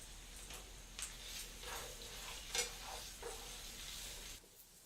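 Bacon and jalapenos frying together in a pan, a faint steady sizzle with a few soft clicks and stirring taps scattered through, quiet and without talk.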